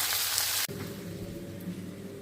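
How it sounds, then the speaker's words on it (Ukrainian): Steady crackling sizzle of thinly sliced vegetables frying on maximum heat in a wok, with a sudden shift in tone partway through as something is stirred or added. "Всі овочі треба дуже тоненько нарізати і смажити на максимальному вогні."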